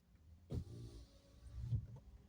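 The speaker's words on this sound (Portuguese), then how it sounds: "Fechando aqui um pouco os vidros também por causa do barulho da rua, que estou dentro do carro" Car power windows being raised from inside the vehicle, a steady motor whir lasting about a second with a soft thump at the start and end, faint and close.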